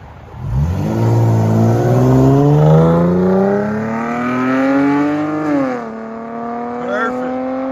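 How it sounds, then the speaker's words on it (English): A 2017 Dodge Challenger with a 3.6L V6 and Dynamax race bullets exhaust revs loudly and close by. The engine note climbs in a long sweep, holds high, drops briefly, then rises again. "Dynamax race bullets."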